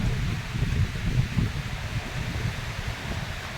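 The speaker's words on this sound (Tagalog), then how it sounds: "lumalakas-lakas ang hangin" Gusty typhoon wind from Typhoon Enting in the Philippines, September 2024, roars and buffets the microphone, with rustling leaves in a continuous low rumble that swells and eases.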